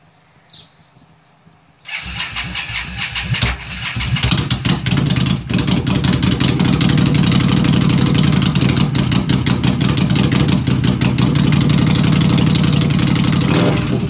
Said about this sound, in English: we're going to start it up here and see how the original pipes sound